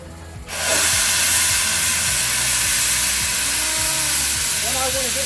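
On an old steam engine with a monkey-tail-tube boiler, the steam blower opens with a sudden loud, broad hiss that stays steady and strong over a faint low rhythmic thumping.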